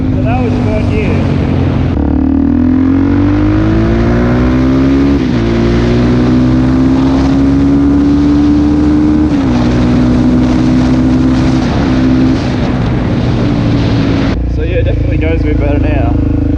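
A DRZ400 motorcycle fitted with a JD Jetkit and K&N air filter accelerates hard in third gear, its loud engine note rising steadily under sustained throttle, close-up with heavy wind noise throughout.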